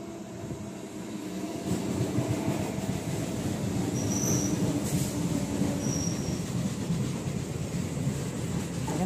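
A train pulls into a crossing station, its wheels rumbling and clattering steadily and loud, with brief high metallic squeals from the rails above the constant roar.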